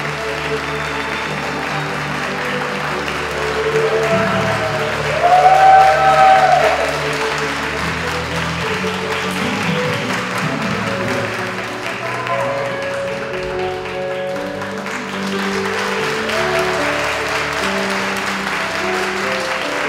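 Wedding guests in a church hall applaud as the groom enters: sustained, even clapping from a large crowd that lasts the whole stretch and swells briefly in the middle, with a faint tone and murmur under it.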